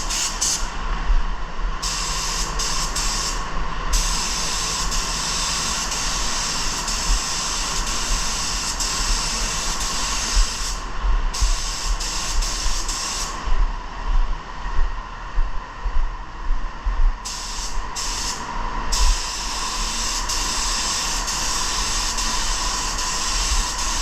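Black base coat sprayed onto a part of a Honda SCL-500 motorcycle: a steady, close hissing spray that runs almost continuously, with a few short pauses between passes.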